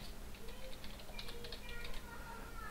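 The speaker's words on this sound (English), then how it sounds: "Type in your library name." Fingers type a library name on a computer keyboard, producing soft, quick, irregular key clicks that are fairly faint against a steady background hum.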